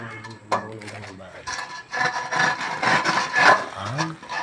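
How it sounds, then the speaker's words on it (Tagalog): Excess plaster mortar is rubbed and scraped off a wall during plastering, rough rasping strokes in irregular bursts, close and fairly loud, with someone talking at the start and end. "Kailangan daanan mo na itong bara, o kuskusin mo na itong barang sobra para makita mo agad"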